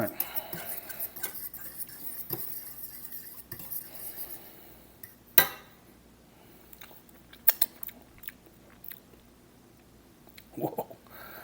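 Bites of cordon bleu meatloaf with horseradish sauce being chewed: soft, close mouth sounds mixed with occasional sharp clinks of cutlery against a plate, with talking in the background.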